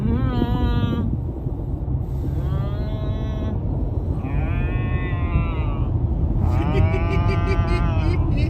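A person imitates cow noises during a long road trip drive, giving a series of drawn-out, wavering moos, about four in a row, over constant road and engine rumble inside a car.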